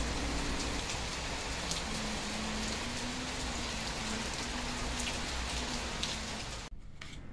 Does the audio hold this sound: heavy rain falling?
yes